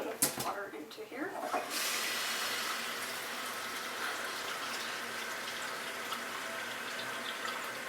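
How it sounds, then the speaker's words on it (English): Water is poured into a pot of chicken being prepared for taquitos. After a few brief knocks, a steady, close splashing pour runs on evenly. "So let's add just a little bit of water into here."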